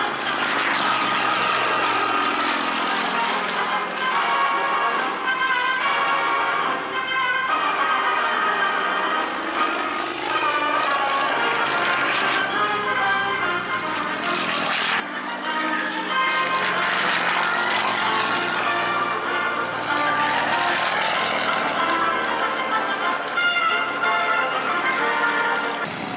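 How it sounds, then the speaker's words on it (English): Modern aerobatic aircraft in flight: a loud, continuous engine and propeller drone that rises and falls in pitch as the plane manoeuvres, heard alone without talk. "Performance of today's modern aerobatic aircraft."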